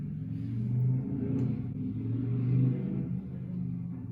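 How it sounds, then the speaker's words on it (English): Motorcycle engines idle and rev outdoors with a steady low rumble, swelling twice across the stretch, fairly close and with no one talking over them. "You like the motorcycles outside?"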